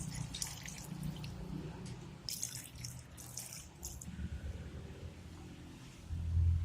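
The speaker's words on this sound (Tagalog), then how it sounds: "Add water." Water is poured into a pot of chicken curry, splashing and trickling close by in a continuous liquid wash with a few louder surges, a low rumble rising at the end.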